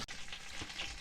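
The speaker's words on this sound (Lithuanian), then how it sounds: "kepa bulvytę su druskyte ir bus labai skanu" Potatoes frying with salt in a pan in a small boat galley, a steady close sizzle with faint crackle and stirring, no voices.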